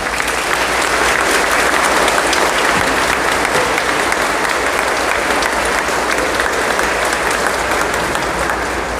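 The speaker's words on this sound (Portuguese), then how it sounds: "Vamos dar uma grande salva de palmas para os nossos santos populares" A parish congregation at the end of a Catholic Mass breaks into loud, sustained applause, a thick, even roar of many hands clapping close by with no break.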